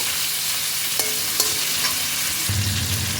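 Chopped tomatoes fry in a pan for a koi fish and cauliflower curry, giving a steady close sizzle with a few sharp stirring clinks and a louder burst of frying near the end.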